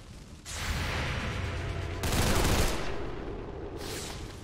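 Sustained gunfire and blasts from the XCOM 2 video game, a dense, loud barrage that swells into a heavier burst midway and keeps rolling to the end without any talk.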